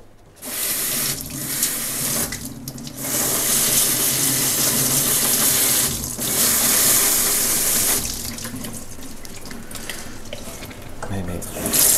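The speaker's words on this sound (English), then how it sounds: "Maybe let's use the tap for this one. It goes just a little bit easier if you have running water on it" Tap water runs steadily into a sink while Miltonia orchid roots are loosened under the stream for repotting into a semi-hydro setup, a continuous close splashing with brief dips in flow and occasional handling sounds.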